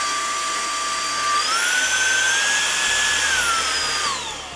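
A Lefant V1 stick vacuum cleaner runs with its electric brush spinning, a loud high motor whine that rises in pitch as power steps up, holds steady, then winds back down.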